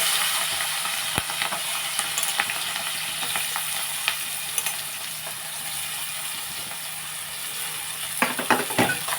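Green chillies and onions frying in hot oil in a pan at home, a continuous steady hiss and sizzle with faint scattered crackles, ending in a few louder stirring clatters near the close, no speech.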